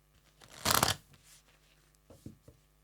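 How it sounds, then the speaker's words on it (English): A deck of tarot cards being shuffled by hand in a quiet room: one short, crisp riffling burst, followed by a few soft taps and slides of the cards. "I'm just going to shuffle a little bit here."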